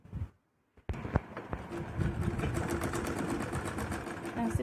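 An electric sewing machine stitches a gown, starting after a short silence and then running in a steady rapid rattle of needle strokes, close and clear, with a faint voice nearby.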